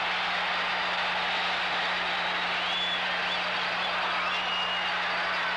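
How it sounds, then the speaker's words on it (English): A Chicago Stadium crowd of hockey fans stands and cheers as the Montreal Canadiens win the 1971 Stanley Cup over the Blackhawks, a steady dense roar of applause and voices filling the arena throughout. "These great Chicago fans stand to cheer the champions and their valiant Blackhawks"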